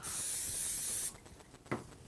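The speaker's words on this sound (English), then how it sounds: "Then I'm going to add another layer, give it a spray," A steady aerosol hiss of cooking spray onto bread cubes for croutons lasts about a second, followed by a few quiet handling taps and a brief thump.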